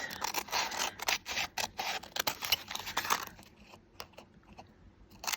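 Quick snipping cuts trim the yellow layer off paper tag edges, a rapid series of crisp clicks and rustles, close up, easing into sparser, quieter snips toward the end.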